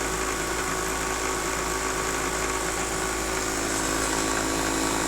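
A car alternator run as a homemade brushless electric motor spins at steady speed, giving a constant high whine over a dense mechanical hum, near and unchanging for several seconds.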